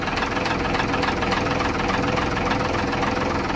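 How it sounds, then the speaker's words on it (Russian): Steady low rumble of a trawler's right-side diesel engine idling, loud and close, constant throughout without any change in pitch. "Ну и начнем с правого двигателя."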